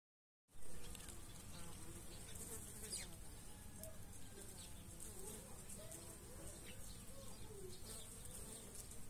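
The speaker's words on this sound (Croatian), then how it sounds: "Ove godine sa ovom lozom su se pogostile pčele kao i brojne ptice." Bees buzz around a grapevine in a steady, close drone that continues throughout, with faint bird calls in the distance.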